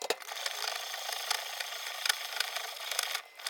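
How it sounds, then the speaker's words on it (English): Parmigiano Reggiano being crumbled by hand for lasagna, a dry crackly breaking and crunching texture with brief sharper snaps, close and continuous, with no talking. "You could use a microplane or something like that to grate this, but I prefer crumbling it like this"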